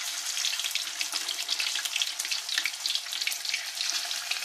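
Thai fish cakes frying in oil over low heat: a dense, steady bubbling sizzle with constant crackle and no pauses, close and even throughout.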